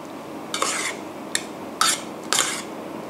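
Flour dough being tossed and mixed with coloured syrup for Thai khanom khi nu, giving four short bursts of scraping and stirring, close and moderately loud, with no talk.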